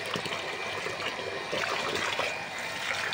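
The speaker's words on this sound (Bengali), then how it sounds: "ভালো করে ধুয়ে নিই" Water runs and trickles while taro leaves are rinsed by hand, a continuous splashy flow with small irregular spatters, close by and fairly steady.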